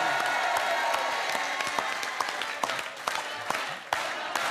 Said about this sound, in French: Vous pouvez applaudir Benjamin